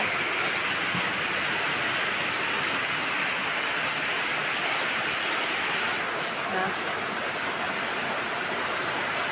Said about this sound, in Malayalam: പുറത്ത് നല്ല മഴയാണ് കേട്ടോ സൂപ്പർ മഴ കാണിച്ചു തരാം